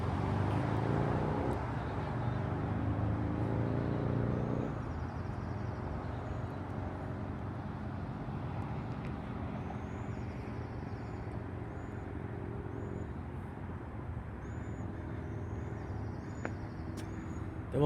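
Garbage trucks roll past on a road in a steady, continuous engine rumble with a broad wash of traffic noise, a brief air-brake-like hiss near the end and no voices.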